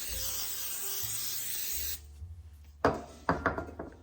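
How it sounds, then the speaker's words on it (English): Cooking spray hisses steadily onto a baking pan for a lemon bar recipe, a continuous close spray lasting about two seconds, then a few light knocks and clatters as the can and pan are handled. "Now, we're going to spray our pan."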